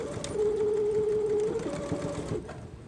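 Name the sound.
sewing machine back stitching a zipper pouch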